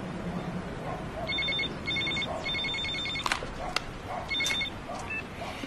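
A telephone rings in short electronic bursts, repeating several times at moderate volume over a quiet room, with a few sharp knocks and brief handling noises in between.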